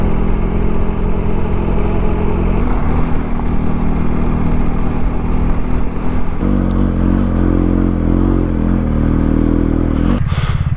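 A big adventure motorcycle runs off-road on the South Dakota backcountry trail, its engine loud, close and continuous throughout, shifting in tone partway through and again near the end.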